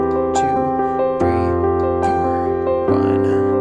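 A worship piano plays sustained chords in a rhythmic pattern, striking new chord changes every second or so, while a voice speaks over the playing.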